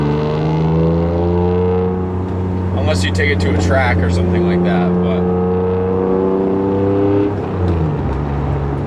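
An Acura NSX engine and exhaust drone on at a steady cruise, with a low tone that shifts slightly as speed changes. Someone talks over it throughout.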